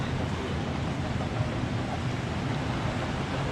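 Wind and surf on a beach in Satun, Thailand, form a steady, dense roar of rushing air and breaking waves that never lets up.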